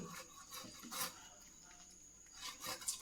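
Knife cutting through a Bombay duck (bombil) fish in a home kitchen: a few short rasping strokes, close and moderately quiet, spaced irregularly with pauses between cuts.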